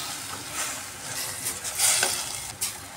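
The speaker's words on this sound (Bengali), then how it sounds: "সব মশলা দিয়ে পালং শাকটাকে আমি ভালো করে কষিয়ে নিচ্ছি।" Spinach sautéed with spices and green chillies in a pan, a steady hiss of frying with soft stirring scrapes layered over it, close and continuous.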